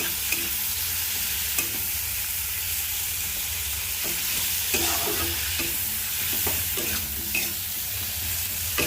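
Onion frying with tomato, chilli, turmeric, cumin, coriander powder and ginger paste in a pan, a steady close sizzle running throughout with periodic scraping stirs of a spoon, no talking.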